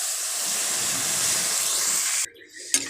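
Whole spice seeds are tempered in hot oil for a sour mango dal, giving a loud, close, steady hiss and sizzle that cuts off suddenly near the end, followed by a brief quieter crackle and clatter.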